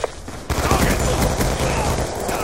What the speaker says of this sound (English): I don't think there's a faster submachine gun. This is 900 rounds per minute.